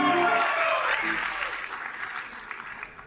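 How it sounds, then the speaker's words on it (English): Wedding reception guests applauding at the Renaissance Dallas: broad crowd clapping that starts loud under lingering voices and music, then tapers slightly while continuing for about three seconds. "Give them another round of applause, ladies and gentlemen."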